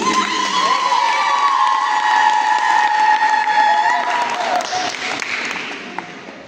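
Students and staff at a graduation mass for form four leavers burst into loud, sustained applause with cheering and shouts, which fades gradually toward the end.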